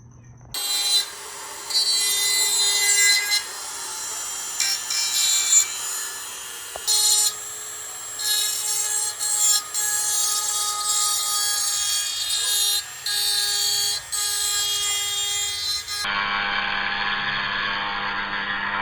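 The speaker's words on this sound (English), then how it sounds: "Just gonna finish up by deburring this thing and we should be ready." A metal engine part for a 408 LS build deburred by hand, heard as repeated rasping, filing strokes in short bursts with pauses, close and fairly loud over a faint steady hum, no talking.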